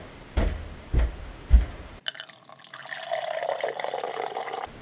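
A few hollow knocks, then water from a tap gushes steadily into a sink, a continuous splashing stream close by.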